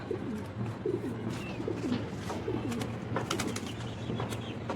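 Pigeons cooing in a Bangladeshi home loft, soft repeated low coos close by over a faint steady background hum, with no voices.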